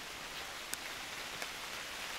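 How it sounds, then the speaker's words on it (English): Steady, soft hiss of rain falling on an Alpine hiking trail, with a couple of faint drip taps standing out. "it's raining currently"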